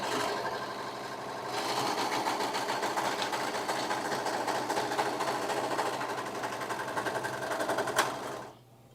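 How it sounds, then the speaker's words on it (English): A serger sewing machine trims and stitches sheer fabric, running as a steady, rapid mechanical whir with a fine rhythmic chatter that carries on for several seconds before stopping abruptly. "we're just going to serge. So I'm just trimming off very little here, and I'm just letting the machine do its thing."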